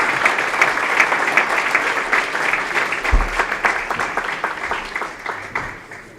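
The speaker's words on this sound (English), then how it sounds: "give them a big round of applause from the British universities" A hall audience at a leadership congress claps for a winning team called to the stage, a steady, fairly close burst of applause that gradually thins out toward the end.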